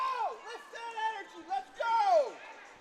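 A student cheering section yelling and whooping at a high school varsity hockey game, with rising and falling shouted voices in a short, lively burst.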